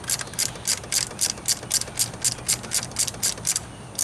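A ratchet loosens the 13mm bolts holding the power steering pump on a Pontiac Grand Am 3.4. It gives a steady, even run of crisp clicks, close and clear, with no talk.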